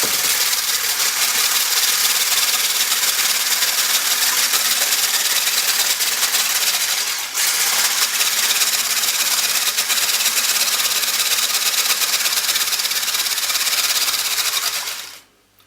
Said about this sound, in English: So we need to whisk these eggs, so excuse me while the whisk is on